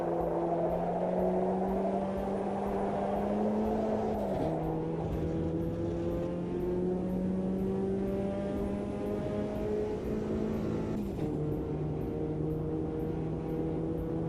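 A turbocharged racing car engine in the sim racing game Automobilista 2 drones at high, steady revs with a faint turbo whine, shifting pitch briefly twice, continuous and close with no talking.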